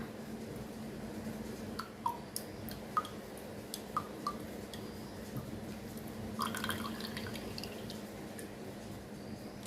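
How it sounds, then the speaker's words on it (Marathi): Coconut water drips from a split coconut in faint, sparse drops, each a small isolated plink against a steady low hiss. "आवाज येत असेल तुम्हाला पाण्याचा"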